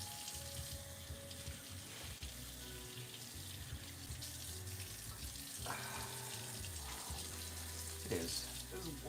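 Cold water running from a tap in a steady, continuous stream, quiet and close, with some faint background noise.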